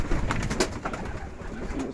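Pigeons cooing close by in a steady murmur just before a pigeon race release, soft overlapping coos with no talk.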